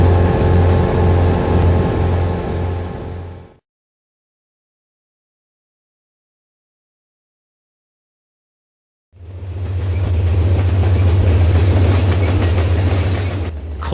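A train runs on rails with a loud, steady rumble and clatter that cuts out abruptly into silence for several seconds before the rolling noise returns just as strong.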